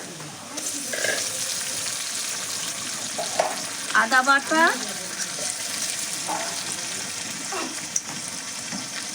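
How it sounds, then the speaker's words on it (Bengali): Garlic and ginger paste sautéing in a pan for Bengali korai chicken, a steady low sizzle throughout, with a few brief clinks and scrapes and a short spoken phrase partway through. "আর জিরের গুঁড়ো দিয়ে আমি মশলাটা একটু কষিয়ে নেব।"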